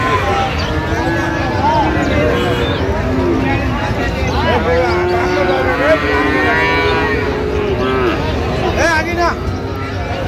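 Friesian bull calves at Raniganj cattle market moo loudly and repeatedly, long drawn-out calls overlapping one another over a constant crowd babble, with people talking and haggling throughout.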